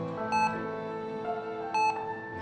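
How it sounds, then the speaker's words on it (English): Hospital machines beep in a short sound effect, two bright electronic beep clusters over a low tonal hum, clear and fairly close. "Machines started beeping."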